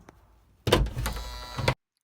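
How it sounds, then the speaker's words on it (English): A minivan's back door is unlatched from inside by a wire cable pulled on a small lever, giving a sharp clunk, then a rattling mechanical scrape, and finally a closing thunk before silence. "added a small wire cable to that little lever that I'm pulling with my finger so that I can now manually open the door from the inside"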